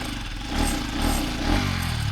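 A motorcycle engine labours up a hill on a ride near Bukachogadi in Bhaktapur, its mid-pitched drone rising and falling in a few uneven revving surges amid some wind noise.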